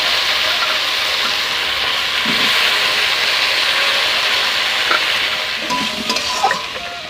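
Pointed gourd and potato fry loudly in a wok, a strong hissing sizzle that runs throughout with occasional stirring clatters near the end and no talking.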